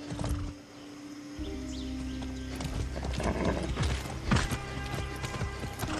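A horse ridden in Far Cry 6 clip-clops steadily along, hooves striking in a quick repeating rhythm up close, with a whinny and game music and ambience humming underneath.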